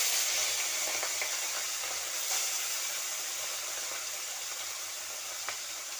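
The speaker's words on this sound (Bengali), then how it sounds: "আমার তেলটা গরম হয়ে গেছে এবার আমি মাছগুলো ভেজে নিচ্ছি" Mourala fish frying in hot oil in a wok, a steady broad sizzle and hiss that continues evenly throughout, with no talking.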